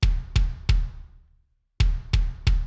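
Kick drum part layered with a Steven Slate Trigger 2 drum replacer sample, playing as loud, bright thumps in two groups of three with a clear pause between them, no voices.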